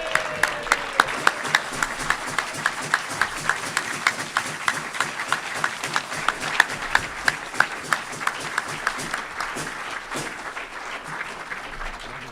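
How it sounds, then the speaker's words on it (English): A Rotary Club of Tucson meeting audience stands and applauds: sustained, brisk clapping from many hands, with sharp individual claps standing out near the front. "I know you're all standing and applauding because you weren't asked to do this job."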